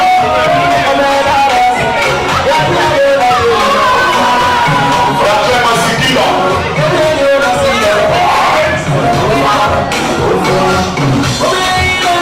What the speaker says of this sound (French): Alors, sous vos applaudissements s'il vous plaît, on applaudit les filles avec les filles